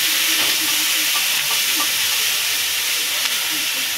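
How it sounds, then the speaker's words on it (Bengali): Shrimp and onions frying together in a pan, a loud, even, close-up sizzle that runs unbroken with faint stirring clicks beneath it. "পেঁয়াজও ভাজা হয়ে যাবে, চিংড়িও আমার ভাজা হয়ে যাবে।"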